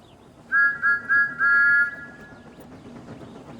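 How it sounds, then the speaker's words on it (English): A shrill steam locomotive whistle sounds four times, three short toots then a longer blast, ringing out at a distance over a low rumble. "a loud whistle filled the air"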